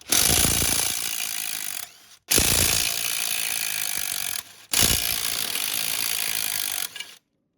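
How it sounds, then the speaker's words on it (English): A ratchet with a chrome socket loosens bolts on a Nissan CD009 transmission case in three long, rapid clicking runs, each a few seconds, close and loud, with short pauses between and no speech. "You gotta love the trusty chrome sockets."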